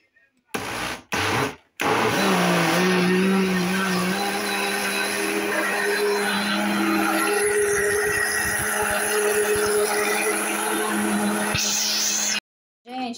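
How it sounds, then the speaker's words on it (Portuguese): A household blender whirs steadily as it beats homemade cake batter in a kitchen, a sustained motor drone with a pitch shift, preceded by a few short bursts and cutting off near the end, with faint talk nearby. "Aqui tem uma gambiarra aqui pra mim poder usar o liquidificador"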